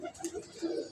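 A pigeon gives a brief, soft coo close by, a short throaty murmur lasting about a second.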